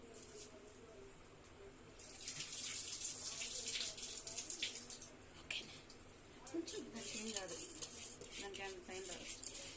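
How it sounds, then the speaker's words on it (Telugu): Water is poured and drained off rice in a home kitchen, a steady splashing, trickling rush running for several seconds, fairly close, with faint background sounds. "నీళ్ళు ఉంటాయి కాబట్టి కొంచెం వడగట్టుకొని అయితే పోసుకుంటున్నాను"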